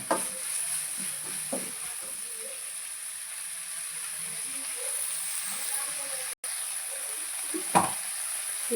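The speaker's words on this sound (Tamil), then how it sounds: "இறால் நல்லா வதங்கட்டும்." Prawns sauté with softened tomato in a pan for a radish prawn gravy, giving a soft, steady sizzle with occasional stirring clinks, quiet and close, with no talking.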